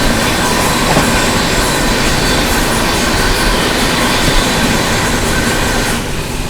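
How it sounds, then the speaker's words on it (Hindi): Howrah Rajdhani Express passenger train rushing past at speed, a loud, dense roar of wheels and carriages with rhythmic clatter filling the whole stretch before easing slightly at the end; no voices. "ये गई हावड़ा राजधानी"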